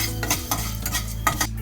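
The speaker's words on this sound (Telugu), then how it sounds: "వేసి వేగించుకోవాలి." A spoonful each of fenugreek and mustard seeds fry in a little oil in a pan. A spoon stirs and scrapes with repeated close clinks over a soft, steady sizzle.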